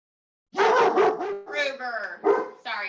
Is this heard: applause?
no